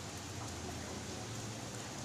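Rain falls steadily outdoors on a street beside a restaurant where rental motorbikes are parked, a continuous even hiss with no voices.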